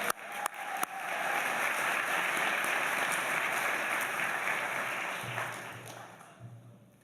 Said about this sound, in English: So if we could give them a round of applause